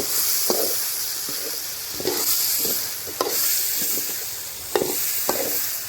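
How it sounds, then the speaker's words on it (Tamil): Mixed vegetables sautéing in a pan for a village dry fish curry, with a continuous close sizzle broken by several sharp scraping stirs of a spoon against the pan. "இதை அப்படியே ஒரு 5 நிமிஷத்துக்கு விட்டுருங்க. நல்லா வதங்கட்டும்."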